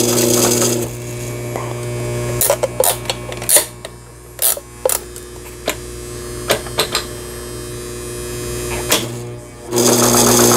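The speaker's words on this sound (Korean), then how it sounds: "후진, 전진, 힘차게 박음질 되는 걸 보실 수가 있어요" A Brother MS350 sewing machine, just repaired, stitches in reverse and then forward. A steady motor hum runs throughout, broken by clusters of quick mechanical clicks and thumps, with no talk.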